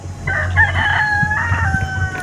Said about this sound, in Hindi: मुर्गे की आवाज़ आना शुरू हो गई हैं।